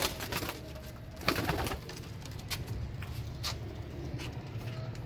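Kamagar pigeons coo softly and close by, low repeated murmuring calls layered over one another, with a few brief clicks and rustles and no talking.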